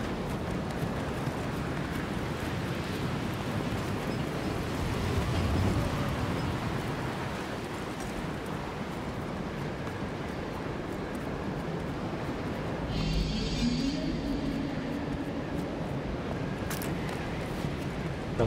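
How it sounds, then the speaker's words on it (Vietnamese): Strong wind blowing at a high place in the video game Jusant: a steady, broad roar of gusting air that swells slightly and persists throughout, with a brief brighter rush near the end. "Lên tới chỗ này là gió nó to bắt luôn."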